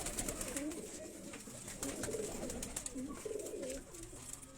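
Several khak-headed pigeons coo in low, repeated throaty phrases, steady and fairly close, forming a continuous soft murmur with no talk.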